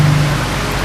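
Rain falling outdoors on a city street: a steady broadband hiss of downpour, loud and close, filling the moment without any voices.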